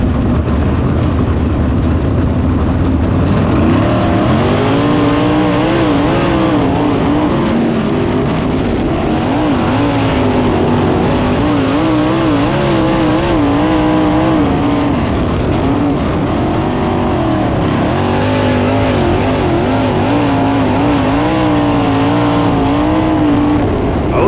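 Race cars at Lawrenceburg Speedway, a dirt oval, roar around the track with a continuous loud engine drone that rises and falls as the cars circle. Several engines overlap at close to mid range and no voices are heard.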